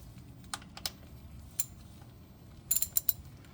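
A 14 mm socket wrench ratchets quietly while loosening the oil drain plug on a 2020 Toyota Corolla: a few scattered clicks, then a quick cluster of sharper clicks near the end.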